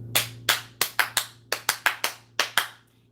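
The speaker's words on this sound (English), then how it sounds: "It's not a Shower 360 video if you don't get the clap." Ten loud, sharp hand claps ring out in an irregular run over about three seconds, each crack decaying quickly, with a steady low hum underneath and no talking.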